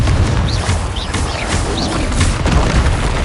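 Confringo blasting spell from a Harry Potter wizard duel, a loud booming burst with crackling debris amid a busy fight soundscape, with sharp whooshing streaks overhead.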